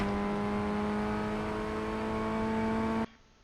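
Ray FF1600 race car engine held in third gear at Mid-Ohio in iRacing, a steady loud buzzing drone at constant revs that cuts off abruptly near the end, leaving faint low noise.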